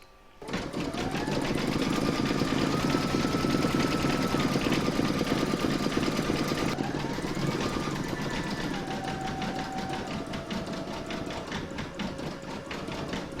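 An embroidery machine stitching the nose and mouth details of a dog muzzle on an in-the-hoop bag dispenser, running loud and continuous with a rapid mechanical rattle and shifting whine that changes pitch partway through.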